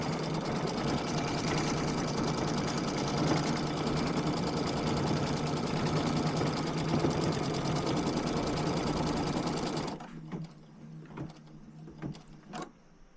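Embroidery sewing machine stitching a design on a quilt held in a hoop, a steady close mechanical whir for about ten seconds that stops, followed by faint clicks and handling noises.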